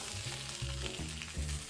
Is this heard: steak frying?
yes